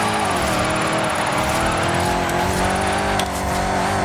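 A car engine drones and revs steadily at close range while drifting through corners in the Forza Horizon 5 racing game, loud and continuous for the whole stretch with no talking.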